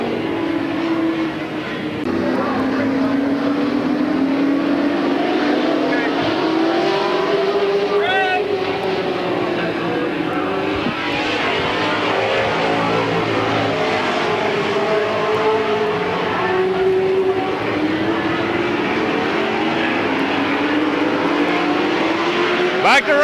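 Race cars circling Midvale Speedway in the closing laps of a 1995 Fall Classic event, a continuous loud engine drone rising and falling in pitch as the pack passes, with a public-address announcer talking over it.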